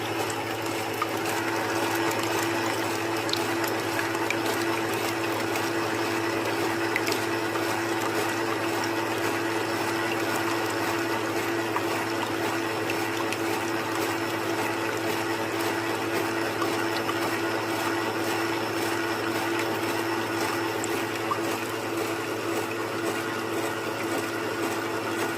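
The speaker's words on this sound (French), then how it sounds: "Prenez un bon fouet pour mélanger" A whisk mixing cake batter for a pièce montée, a steady, continuous whirring churn that stays loud and even throughout with no pauses.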